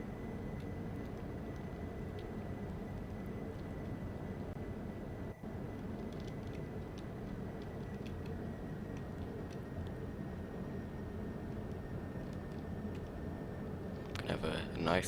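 Aircraft landing in Kerbal Space Program, a steady engine drone running throughout with a brief dropout midway and a louder burst near the end, heard under talking.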